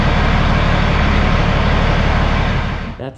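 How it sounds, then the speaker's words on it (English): A 2008 Kenworth W900L truck engine idles with a deep, throaty growl, steady and close for most of the moment before the sound drops off at the end. "it's got a nice throaty growl to it"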